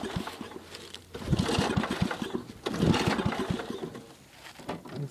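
A small RM830 two-stroke engine sputters and revs under throttle in a backyard, rising and falling in two bursts of rapid putting before dropping back toward idle.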